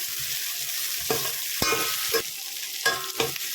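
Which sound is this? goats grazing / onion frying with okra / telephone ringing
onion frying with okra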